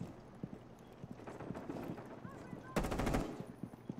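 Gunfire in a video game: a sharp rapid burst of shots near the end, loud and close, preceded by scattered thuds and clatter from the game, with no talk.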